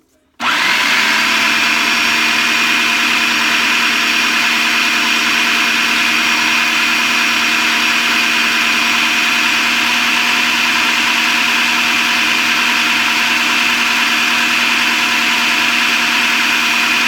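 A blender switches on abruptly and runs continuously, whirring loudly and steadily at close range while blending homemade white bean hummus, with no talking.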